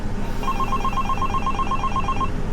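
A telephone rings indoors with a rapid trilling electronic bell burst, loud and close over a steady background hum, lasting about two seconds.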